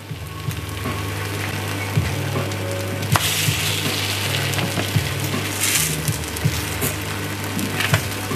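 Pancake batter cooking in a pancake pan, a steady sizzle and crackle with a faint low hum underneath and occasional soft knocks of the pan, close and fairly loud with no talking.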